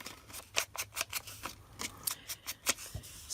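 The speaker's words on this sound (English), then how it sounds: "you get to see me do this again with the fussy cutting" Scissors fussy-cutting paper for a journal, a series of crisp, close snips in an uneven rhythm, each a short sharp crunch with small pauses between, and no voices.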